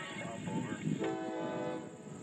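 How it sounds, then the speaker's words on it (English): Horn of Norfolk Southern locomotive NS 1068 Erie leading westbound intermodal train 21E at Anvil, PA: a steady, fairly distant multi-tone horn blast over low rumbling background noise. "this is the first time I get to hear Erie's horn"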